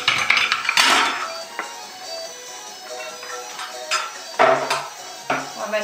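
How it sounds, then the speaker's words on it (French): Metal lid lifted off a pot of turkey thigh stew and set aside, giving loud clanks and clinks up close at the start, then quieter scrapes and a second burst of metallic knocks. "On va mettre le couvercle de côté."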